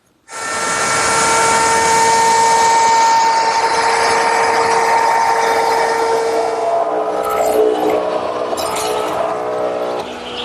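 A wood router fitted with a 3/8 inch radius roundover bit shapes the top and bottom edges of a wooden patio tabletop, a loud, steady high whine running continuously and shifting in pitch toward the end.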